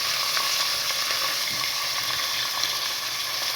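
Mixed vegetables such as carrot, capsicum, cauliflower and cabbage sauté in a pan for a noodle soup, giving a steady, close sizzle and crackle with light stirring scrapes and no talking.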